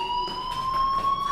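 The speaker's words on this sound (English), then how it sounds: "do you hear that fire alarm? That means you should be outside." A fire alarm rings inside the video game Life Is Strange, a steady electronic tone held throughout with a pulsing wail behind it, loud and alone without talk.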